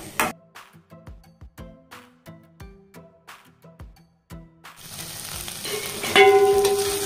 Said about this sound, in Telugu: అన్ని స్పైసెస్ అన్ని బాగా పట్టాలి కాబట్టి బాగా కలుపుకోండి, లేదంటే మాడే ఛాన్సెస్ ఉన్నాయి